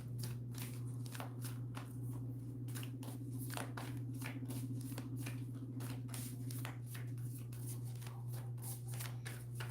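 Oracle cards being shuffled by hand, a steady run of crisp riffling snaps and slaps repeating throughout over a constant low electrical hum.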